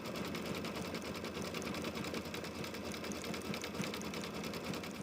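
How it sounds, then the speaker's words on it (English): An embroidery machine runs a top stitch around an egg-shaped quilt block, a steady fast mechanical whir and needle chatter that holds constant and close throughout, with no talking. "this will go over to the embroidery machine, and I'm just about done"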